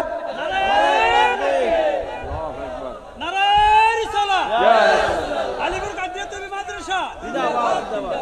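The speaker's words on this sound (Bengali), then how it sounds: "দুইটা তুলে একটা জোরে তাকবীর দেওয়া চাই, জোরে।" A large crowd at a Bengali religious sermon gathering loudly chants the takbir in unison, with repeated swelling shouts of many voices rising and falling over several seconds.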